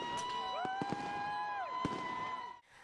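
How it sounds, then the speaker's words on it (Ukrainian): Celebratory fireworks salute at the Chernivtsi City Day festivities, with sharp bursts and crackles rising over a steady background of music and crowd noise, ending in a brief drop to quiet. "Кульмінацією вечірнього святкування вже традиційно став урочистий салют."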